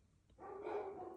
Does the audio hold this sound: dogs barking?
yes